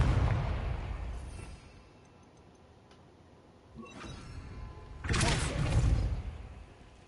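Confringo fire spells blasting in the Hogwarts Legacy video game, with a sharp burst near the middle and a louder, broader explosion following, over a faint ambient background.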